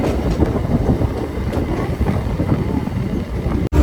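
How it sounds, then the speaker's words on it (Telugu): A 07466 Rajahmundry to Visakhapatnam passenger MEMU train runs at speed, around 90 km/h, with a steady, loud rumble and rattle of the coaches and some wind buffeting. It continues unbroken except for a brief dropout near the end. "ఇది ప్యాసింజర్ ట్రైన్ కదా"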